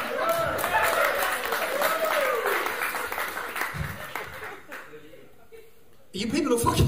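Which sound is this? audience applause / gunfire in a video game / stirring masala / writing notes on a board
audience applause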